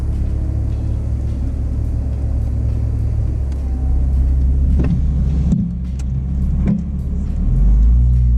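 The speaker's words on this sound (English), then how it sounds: "the best way to experience the sound of a Boxster" A Porsche 987 Boxster S engine rumbles steadily at close range with the roof off, a low throaty drone with a few brief clicks and a swell in power near the end.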